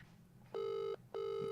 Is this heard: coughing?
no